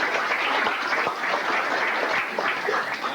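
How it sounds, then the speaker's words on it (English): A banquet audience applauding senior football players at an athletic banquet, a dense, even round of clapping from a large room, heard alone without talk. "these seniors, need a big round of applause for this job"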